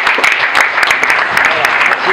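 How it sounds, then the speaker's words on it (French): Brief, dense applause from an audience at a rugby club inauguration honouring women's rugby players, loud and steady with sharp individual claps poking through. "je crois qu'elle mérite ses applaudissements"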